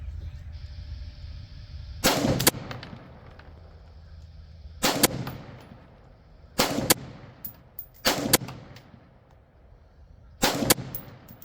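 A Bushmaster M17S bullpup rifle fires five loud, sharp shots spaced a couple of seconds apart, each followed by a brief ringing decay over low outdoor background noise.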